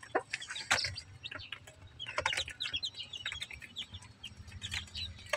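Mother hens in a backyard poultry pen cluck in steady, overlapping bursts at close range, mixed with sharp chirps and squawks from other birds, busy and continuous with no talking.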